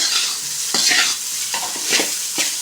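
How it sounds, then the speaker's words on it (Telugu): Egg rice being stirred in a hot pan at home, a steady sizzle broken by a few distinct scraping strokes of the spatula, close and fairly loud, with no talking. "ఇలాగే బాగా కలుపుకుంటూ ఉండాలి అన్నం చిటి చిట అని పైకి ఎగిరేంత వరకు కలపాలి"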